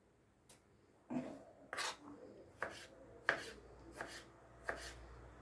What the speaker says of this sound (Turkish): hem biberlerim hem domateslerimi minnacık minnacık şekilde doğrayacağım